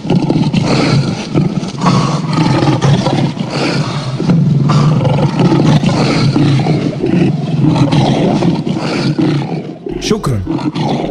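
Lion roar performed in a church children's play, a loud, sustained, rumbling roar filling the space, with a brief scrape near the end.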